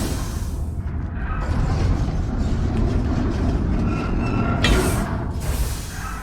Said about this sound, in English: Let's try the tram first.